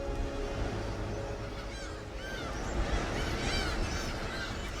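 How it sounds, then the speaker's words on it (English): Cormorants and black-tailed gulls calling at a breeding colony on Cheyou Island in the Changdao sea area: many overlapping harsh caws and squealing cries over steady background colony noise, with no talking. "Here, cormorants and black-tailed gulls live as neighbors,"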